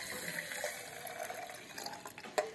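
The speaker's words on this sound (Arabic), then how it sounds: "وكيف قلت لكم كندير الماء بارد، ما كنديروش الماء طيب، الماء بارد" Cold water poured for Moroccan Saharan-style tea, a soft continuous trickle and splash throughout, fairly faint and close, with a small clink near the end.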